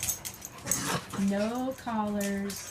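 A small dog whimpers in two drawn-out, wavering whines near the end, close and clear, while a person talks softly before them.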